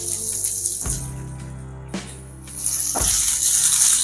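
Ginger pieces tipped into a hot pan of roasted lentils and coriander seeds, giving a loud, steady sizzle with sharp bursts as they drop in near the start and again toward the end.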